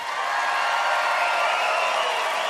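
A studio audience applauds and cheers for a comedy debater, a dense, steady wash of clapping with scattered whoops that holds at an even, loud level throughout.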